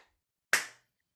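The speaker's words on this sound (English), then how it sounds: "we're going to clap our hands together" A single sharp clap of two hands, close and crisp, standing alone in silence with a short ring-off.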